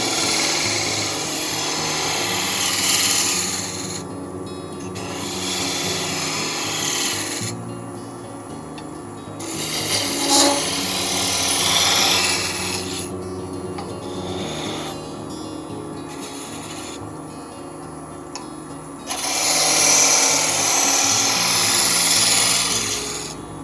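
A woodturning lathe runs steadily while a detail skew tool rounds sections of a wooden snowman, giving a continuous motor hum with rising and falling passes of close scraping and shaving.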